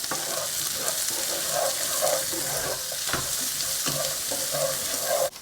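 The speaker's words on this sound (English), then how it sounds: "once that is sizzling away, I'm going to add the onions" Chopped onions fry in a hot pan for a saag aloo, giving a loud, steady sizzle throughout, with occasional stirring clicks and a brief drop at the very end.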